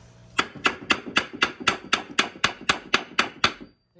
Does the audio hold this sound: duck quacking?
no